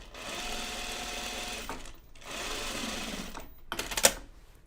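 A sewing machine stitches jeans seams together in two steady bursts of close, buzzing rapid stitching separated by a short pause, followed by a few clicks and a sharp knock.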